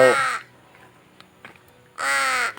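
A pet crow gives two loud, harsh caws close by, one at the start and another near the end, separated by a quiet pause with faint small background sounds.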